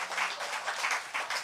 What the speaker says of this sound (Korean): 감사의 박수 보내주시면 어떨까요?